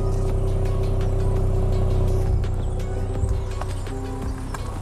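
2020 Land Rover Defender engine revving close by, a loud throaty drone with a steady low rumble and a faint rattle throughout.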